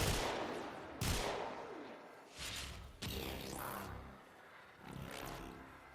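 Gunfire from Mesa's fourth ability in the video game Warframe rattles in repeated loud bursts of shots at enemies, with short pauses between volleys and no talking.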